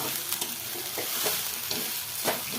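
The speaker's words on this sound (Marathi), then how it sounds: "थोडीशी हळद टाकलेली आहे आणि चांगले मिक्स करून घेते पुन्हा आणि गॅस कमी करते नाही तर कांदा जळून जाईल" Onion with turmeric frying in a pan and being stirred, a dense close sizzle with repeated spoon scrapes and short bursts as the mixture is turned over.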